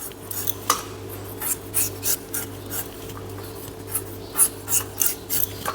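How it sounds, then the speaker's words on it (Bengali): A knife cuts through firm peeled raw mango, giving a series of short rasping slices in an uneven rhythm, close and fairly crisp over a low steady background hum. "এখন আমি কেটে দিচ্ছি"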